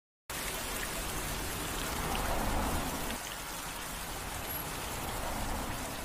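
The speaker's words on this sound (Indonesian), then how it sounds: "hujan di sore itu membuat Ayaka kembali harus menunggu." Steady rain falling on surfaces during an evening scene in a Japanese horror short film, a dense continuous hiss that holds even and close throughout, with no voices.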